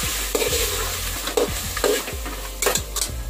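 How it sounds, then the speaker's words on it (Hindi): Chicken pieces frying in a pot for pulao, with loud continuous sizzling and repeated scraping stirs of a spoon against the pot at an uneven rhythm. "चिकन को हमें अच्छे से 3 से 4 मिनट तक का फ्राई करना है"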